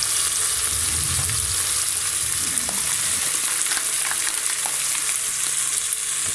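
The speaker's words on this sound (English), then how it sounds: "I will add this rice to it." Basmati rice frying in a pan for biryani, a continuous loud sizzle with scraping stirs and a few light clinks of the utensil.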